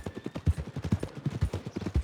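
Hooves of a horse in the video game Red Dead Redemption 2 clip-clop in a brisk, even rhythm, close and clear, with no voices over them.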